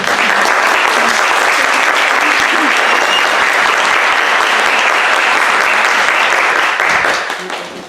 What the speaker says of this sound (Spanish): Recibamos con un fuerte aplauso a nuestra invitada Lourdes Roca.